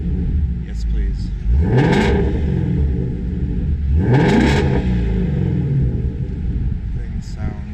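A 2016 Ford Mustang Shelby GT350 engine revs twice with the exhaust in sport mode, each sharp rising roar falling back to a loud burbling idle, close up.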